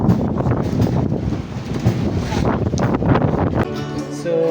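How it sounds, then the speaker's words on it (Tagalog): Strong wind buffets the microphone on an island, a loud, continuous gusty roar with surging rumble from start to end, and a voice briefly speaks over it. "Lakas ng hangin pala."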